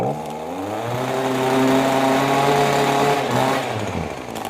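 A Weedeater string trimmer engine runs close by with a steady buzzing, slightly wavering small two-stroke drone, its pitch sagging and rising a little over several seconds, no talking.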